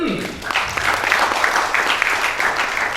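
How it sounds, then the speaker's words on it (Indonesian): Audience at a grand scholarship launch event breaking into applause, a thick, steady crowd of clapping that swells quickly after a brief voice at the start and holds loud and even to the end. "tepuk tangan dari kalian dulu"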